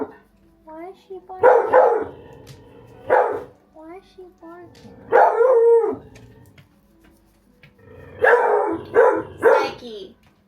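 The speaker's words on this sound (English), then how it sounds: "Why is she barking?" A pet dog named Lucky barks and howls indoors in a home kitchen, several loud bursts with drawn-out yowling tones separated by short pauses, close to the listener.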